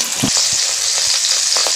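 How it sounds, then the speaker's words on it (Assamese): Cauliflower florets fry in hot oil in a wok, giving a steady bright sizzle with a few soft clicks from stirring, close and without talk. "মই কেৰাহীখনত তেল দিয়াই ৰাখিছোঁ আৰু ফুলকবিখিনি মই অকণমান ভালদৰে ফ্ৰাই কৰি ল'ম"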